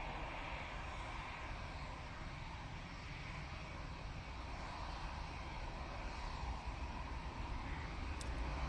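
A passenger plane rolls down the runway for takeoff at Manchester Airport and rotates, its engines a steady, broad roar that stays loud and constant throughout, heard from a distance with no voices.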